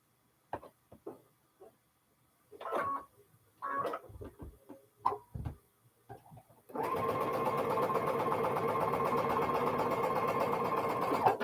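A home sewing machine stitches Elizabeth Hartman quilt blocks in a long steady mechanical run, loud and continuous, after several seconds of scattered handling clicks and taps on a quiet table.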